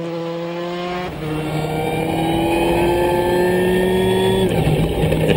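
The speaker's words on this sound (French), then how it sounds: "Juste derrière, la BMW M3 d'Andy Lefebvre" BMW M3 rally car at the TAC Rally 2011, its engine revving and shifting up through gears with a rising whine, loud and steady, a brief dip before climbing again.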